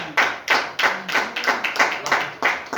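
A church congregation applauds together in rhythmic unison, about nine sharp, loud claps evenly spaced close to the listener, with no talking over them.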